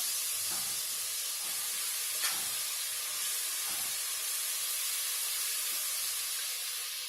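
Butter melting in a hot pan while grits with salmon are being cooked gives a steady, close sizzling hiss that holds evenly throughout with no voices.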